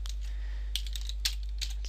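Keys on a computer keyboard are tapped in a few sparse, light clicks while a command is entered, close and quiet over a steady low hum.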